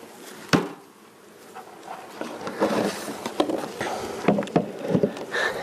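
Honey bees buzzing around a hive top feeder, a soft irregular hum with scattered taps and scraping knocks from handling the feeder, close by.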